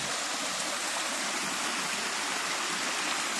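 Steady, dense rush of cascading water, like a waterfall, constant and fairly close with no voices.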